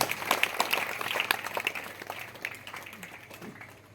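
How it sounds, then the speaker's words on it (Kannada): Audience at a cooperative society meeting applauding to approve a dividend, a short burst of clapping that swells and then fades out. "ನೀವು ಎಲ್ಲರೂ ಚಪ್ಪಾಳೆ ಮೂಲಕ ಅದನ್ನು ಅನುಮೋದಿಸ್ತೀರಂತೇಳಿ ನಾವು ಭಾವಿಸ್ಕೊಂಡಿದ್ವಿ"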